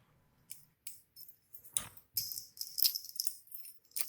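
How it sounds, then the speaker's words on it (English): EVVA 3KS high-security lock keys, with forked tips and laser-cut side tracks, being handled: a series of light metallic jingles and clicks, close and fairly quiet, with no speech. "I love the keys on these locks."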